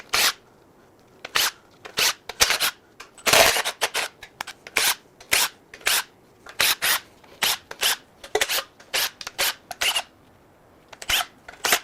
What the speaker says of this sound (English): now we can zip all the bolts out of the oil pan